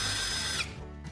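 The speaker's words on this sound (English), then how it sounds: "Now, I'm going to drill through the core of the wooden handle." A power drill bores through the core of a wooden handle clamped in a vise. Its loud, steady whine runs for about half a second, then drops to a quieter, lower hum.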